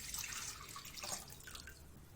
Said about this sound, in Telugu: ముందుగా ఒక బౌల్ తీసుకొని మనం తీసి పెట్టుకున్న లీటర్ నీటిని బౌల్లో పోసుకోవాలి.